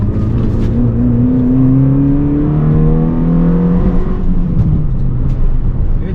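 A small track car's engine revs freely and loudly up close, pitch sweeping upward and settling back in a continuous zippy whine over steady rumble.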